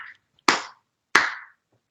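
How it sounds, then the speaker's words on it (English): Two sharp hand claps ring out alone in a quiet space, spaced about two-thirds of a second apart, each with a short decaying tail. "Are we supposed to be clapping for that?"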